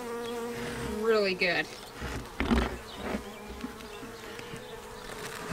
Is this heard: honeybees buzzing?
yes